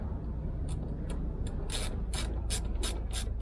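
A hand ratchet clicks in quick bursts while tightening the front seat mountings of a 1995 Range Rover Vogue SE, heard close over a steady background hum.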